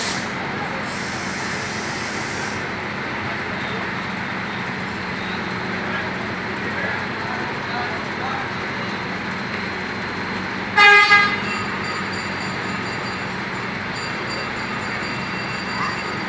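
A Sugeng Rayu bus pulls out of the Anjuk Ladang bus terminal in Nganjuk, its engine holding a steady idle-like drone amid terminal bustle, with one short loud horn blast partway through and talk nearby.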